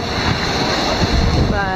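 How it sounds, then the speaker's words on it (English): Artificial waves breaking in a waterpark wave pool, ocean-style surf, a steady broad wash of rushing water and spray, continuous and fairly loud with faint wind noise. "One does the traditional like ocean-y kind of waves where they're breaking like that."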